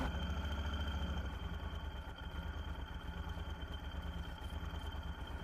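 A motorcycle engine idles steadily at a gas station, a close, continuous rumble with a low throb throughout and no talking.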